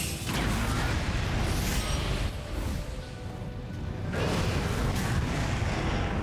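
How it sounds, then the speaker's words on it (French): Flame explosion attack striking a Gravios Onyx in Monster Hunter Stories II, a sustained roaring, rumbling burst of fiery noise that swells, dips briefly midway, then surges again with loud, dense crackle throughout. "Explosion de flamme"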